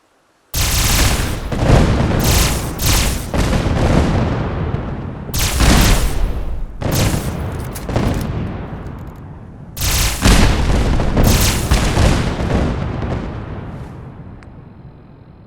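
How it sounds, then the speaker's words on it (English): A modded weapon in Fallout 4 fires barrages of exploding projectiles, giving several rolling bursts of loud booms and rapid blasts separated by brief pauses. The last barrage trails off into a fading rumble. "The Beyonder fires a barrage of projectiles with a ballistic trajectory that explode on impact."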